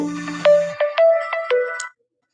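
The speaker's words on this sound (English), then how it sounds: "I keep getting these phone calls" A phone ringtone chirps out a short electronic melody of bright beeping tones in a quick rhythmic pattern, clear and alone, then cuts off abruptly.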